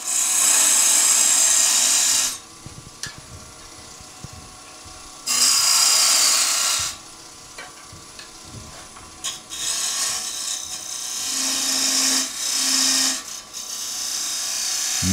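A woodturning tool cuts a wooden tenon on a lathe, giving loud hissing, scraping bursts of a few seconds each, separated by quieter spells of the spinning lathe.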